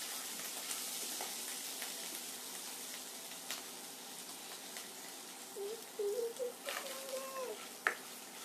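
Grated ginger and green chili sautéing in a pan give a steady, even sizzle throughout, with a few light stirring scrapes and faint background voices late on.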